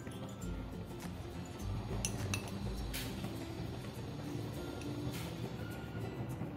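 A teaspoon clinks faintly against a bowl while lemon juice is measured out for milk cake barfi, a few light metallic taps over a quiet kitchen background.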